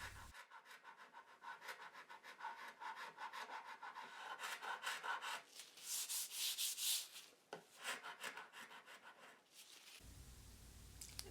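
A cabinet scraper drawn over the wood veneer of an Art Deco nightstand, making a run of close, dry rasping strokes that speed up into quick bursts before stopping abruptly.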